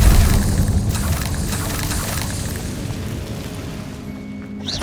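Confringo blasting spell explosions in Hogwarts Legacy, a dense rumbling boom that swells loudly at the start and rolls on with crackling debris, slowly fading over several seconds with no talk.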